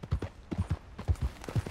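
A horse's hooves clip-clop in Red Dead Redemption 2, a close, steady rhythmic run of paired thuds at a walking pace, with no talk over them.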